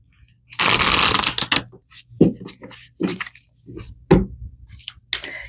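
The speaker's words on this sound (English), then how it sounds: "Let's pull some more cards here for you guys." Tarot cards shuffled and pulled for a full-moon reading: a dense burst of riffling card noise followed by a string of separate snaps and slaps as single cards are drawn and laid down, close and clear with no talking.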